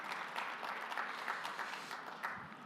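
A conference audience applauds a senator's speech at a city conference, a moderate crowd clapping steadily in a large hall before tapering off near the end.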